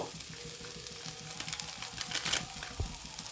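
Spices for chana masala are stirred in a hot pan with a little sugar and chilli powder, giving a steady close sizzle of frying with rhythmic scraping strokes and a few louder clacks near the end.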